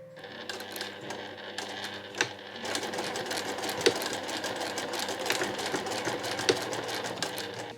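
Sewing machine stitching a cotton two-way shoulder bag in fast, clattering bursts of needle strokes with brief pauses between runs, close and fairly loud, with a few sharp clicks.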